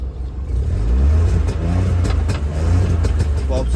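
Maruti Baleno RS hatchback with an aftermarket exhaust revving up close, a deep, throaty engine note rising and falling in repeated bursts.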